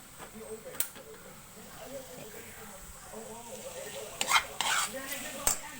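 Leftover rice reheating in a frying pan, soft hiss under intermittent scraping and clinks of a spoon stirring, with louder metallic knocks near the end and a voice talking now and then.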